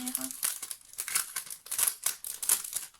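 A mail envelope being opened by hand: crinkling paper and sharp tearing bursts come close and fairly loud in irregular bursts across the whole stretch, with a brief voice at the start.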